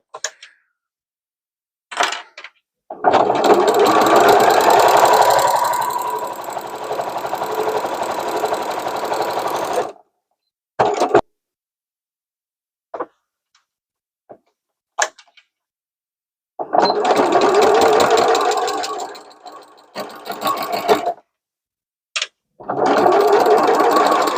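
Sewing machine running a seam on a fuzzy fabric zipper pouch, in long steady whirring stretches broken by pauses and short bursts of stitching, close and loud with no talking.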